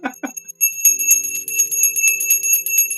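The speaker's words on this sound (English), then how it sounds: "get ready to ring my bell" A bell rings steadily for the stock market open, with rapid clanging strikes and a sustained tone behind them, loud and close, following a couple of brief voice sounds at the start.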